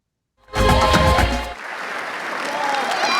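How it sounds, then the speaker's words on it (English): Sudden burst of applause from a small group, loud at first, then thinning into lighter scattered clapping and room noise. "I think that deserves a round of applause"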